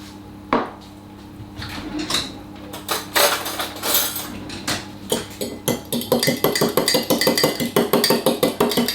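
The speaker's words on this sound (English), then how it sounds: "we're going to beat 2 large eggs and 60 mils of milk together." Eggs and milk whisked together in a bowl for a Dorset apple cake, starting with a few scattered clinks, then settling into a fast, steady run of close metallic taps against the bowl.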